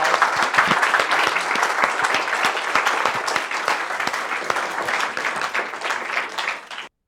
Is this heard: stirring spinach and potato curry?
no